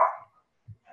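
A pet dog gives a sharp bark, then a soft low yip, then another bark-like burst a moment later, close and fairly loud in an otherwise quiet indoor room.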